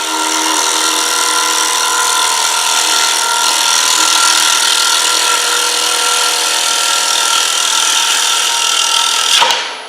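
A bowl gouge cuts a dried green wood bowl spinning on a lathe, producing a continuous loud scraping hiss with a steady whirring tone for about ten seconds, ending in a brief knock, with no talking.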